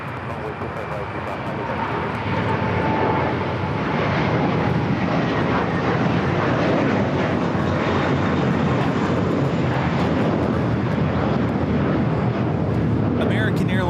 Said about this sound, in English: American Airlines 1595 taking off to Chicago on the A321, the Allegheny Retro livery